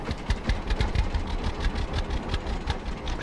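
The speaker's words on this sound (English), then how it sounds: "you can actually hear this tractor change tune when it struggles going uphill" A tractor engine in the Farmers Dynasty farming game labors uphill with a rapid, rough mechanical chugging that throbs steadily throughout at moderate loudness.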